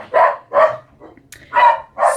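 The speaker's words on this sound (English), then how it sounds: "Sorry about the dogs." Dogs at home bark four times in two pairs, loud and close, with a short quiet gap in the middle.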